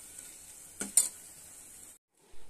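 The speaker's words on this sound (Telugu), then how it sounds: "చూడండి, బాగా వేయించుకోవాలండి" Freshly pounded masala frying in hot oil for a mutton head curry, a soft steady sizzle with a couple of brief stirring scrapes, quiet and close.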